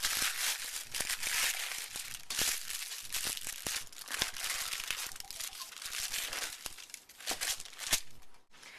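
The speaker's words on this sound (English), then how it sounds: "I'm just going to pull it out of the glass pan and move the parchment paper down." Parchment paper crinkles and rustles close up as a chilled slab of chocolate fudge is lifted out of a glass pan, with irregular crisp crackles and sharp snaps throughout.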